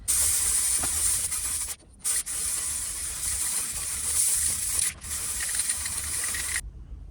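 Aerosol spray paint laying a primer coat on a CCTV camera, a close, loud continuous hiss broken by two brief pauses before a final cutoff.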